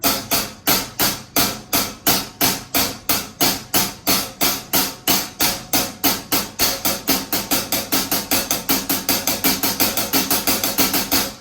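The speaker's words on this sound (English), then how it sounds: "So that's the double paradiddle." A fast, steady stream of sharp drum strokes playing a double paradiddle rudiment, evenly spaced and gradually speeding up, loud and close with no voices.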